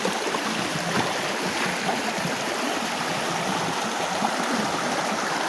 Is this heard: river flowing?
yes